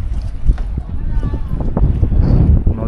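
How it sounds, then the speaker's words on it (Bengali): Strong morning wind on a river with waves, roaring as low, steady gusts against the microphone, with faint knocks and a voice partly mixed in underneath. "আজকে সকাল থেকে খুব ভালো হাওয়া চলছে"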